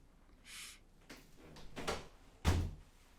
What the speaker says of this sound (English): Hey, I'm shutting this back door.